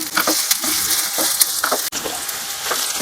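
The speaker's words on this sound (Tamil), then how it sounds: "இப்போ வந்து இதை கொஞ்ச நேரம் வதக்கிக்கலாம்" Mango ginger pieces sizzle and fry steadily in hot oil for a Tamil-style pickle, a loud continuous crackling hiss with occasional stirring scrapes, close up and without talk.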